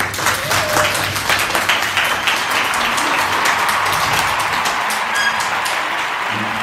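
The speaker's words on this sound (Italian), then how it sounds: "Ok, fate un applauso." A classroom of schoolchildren claps in a steady, continuous round of applause, fairly loud and close, with no talk over it.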